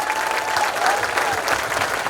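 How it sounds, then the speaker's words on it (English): Parents, guardians and grandparents in a school auditorium applaud sixth-grade students at a winter concert, a continuous wash of many hands clapping at fairly loud, even level, with faint crowd murmur underneath. "Parents, guardians, grandparents, would you please give your students a round of applause?"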